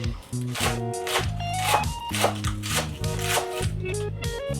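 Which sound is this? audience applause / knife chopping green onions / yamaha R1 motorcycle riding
knife chopping green onions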